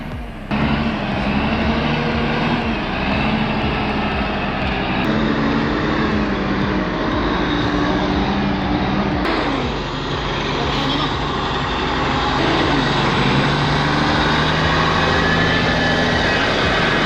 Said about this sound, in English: That old mechanical engine is earning its keep today.